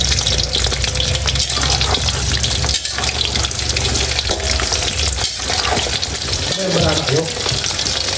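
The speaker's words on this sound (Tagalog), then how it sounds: "bali nagpainit na tayo ng mantika. Magpiprito na po tayo ng saging." Banana pieces sizzle and crackle steadily in hot cooking oil, a loud, dense frying hiss close by with brief stirring disturbances and faint kitchen sounds throughout.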